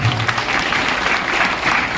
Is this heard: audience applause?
yes